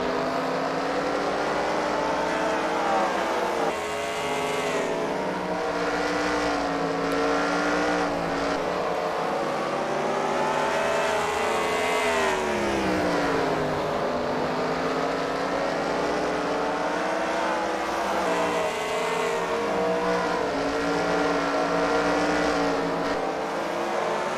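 Race cars circle the track at the Freedom Factory in a CWRL fight night race. Several engines scream and drone nonstop, their pitch rising and falling as the cars pass and shift.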